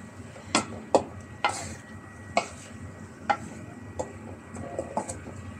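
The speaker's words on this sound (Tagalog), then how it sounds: "Haluin natin ng maigi." A utensil scrapes and clicks intermittently against a pan of chicken chop suey with celery, a dozen or so light strokes over a soft frying sizzle, close and fairly quiet.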